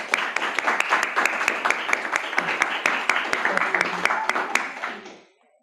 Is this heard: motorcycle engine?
no